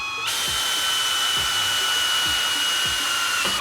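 A homemade modified drill bit bores into sheet-metal spot welds, a steady high-pitched whine holding for a few seconds at close range with no talk.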